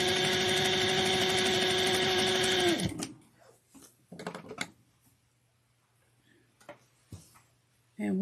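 A sewing machine stitches a clutch wallet in a fast, loud, steady mechanical whirr for about three seconds, then winds down. Quiet handling clicks and rustles follow, and the motor starts again right at the end.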